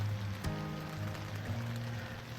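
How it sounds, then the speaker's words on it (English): Rain falls on tents at a cold winter backpacking camp on the Manistee River Trail, a steady, even hiss of drops with a low droning hum beneath it and no voices. "it just started raining"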